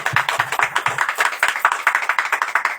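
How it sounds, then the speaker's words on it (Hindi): An audience claps along in a steady rhythmic beat, moderately loud and fairly close, a regular pattern of sharp hand claps continuing throughout. "ताली हम बजाएंगे।"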